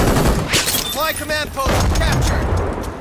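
Bursts of gunfire from the online shooter game Brink crackle and rattle loudly and continuously, with a voice briefly heard partway through.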